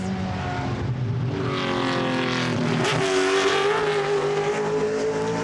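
Race cars lapping an oval circuit at a Goodwood Members' Meeting, their loud, continuous engine roar rising and shifting in pitch as they pass close by, with tire noise and no talking.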